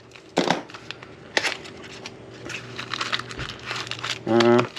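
A taped package of motorcycle hardware for a Harley-Davidson Road Glide Special is torn open close by, with sharp crinkling and ripping of tape and packaging in uneven bursts and a brief voice near the end.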